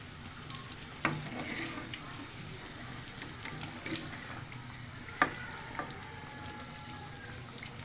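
Potato snack frying in hot oil, a steady soft sizzle running throughout with a few sharp spoon or pan knocks at irregular moments.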